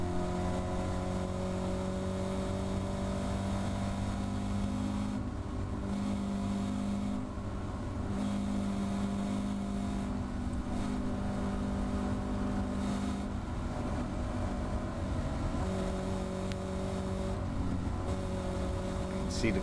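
A Caterham race car runs flat out at Thruxton circuit, its engine holding a steady high-revving drone with sustained tonal harmonics, loud and close as if from onboard, with brief dips and shifts in pitch between gears and corners.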